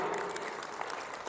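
A church congregation breaks into applause during a sermon, a brief dense burst of many hands clapping together, fairly loud and close, with a faint voice underneath.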